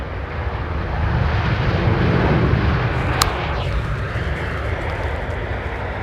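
A Boeing 777 jet at London Heathrow in calm, light northwesterly wind, its engines giving a steady, loud broadband roar that holds level throughout, with a brief sharp click partway through.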